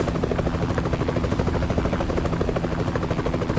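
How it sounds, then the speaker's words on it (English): A helicopter flies overhead in American Truck Simulator while a Western Star W57 truck drives from Amarillo to Grand Canyon Village, its rotor beating in a steady, fast, loud pulse that fills the whole stretch with no talking. "Since I hear a helicopter overhead,"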